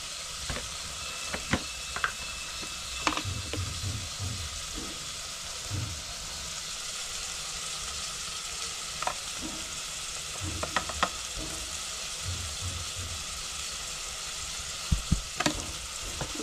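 Food being stirred and mixed in a sizzling pan, with steady frying hiss and intermittent scraping clinks of a spoon against the pan, close and moderately quiet with no talking.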